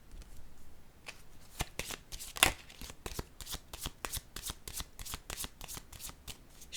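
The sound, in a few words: shuffling and drawing tarot cards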